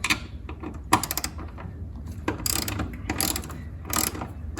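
A ratchet wrench loosens 13 mm bolts during a shock install on a BMW Z4, its quick clicking pawl coming in several close, loud bursts separated by brief pauses, with no talking.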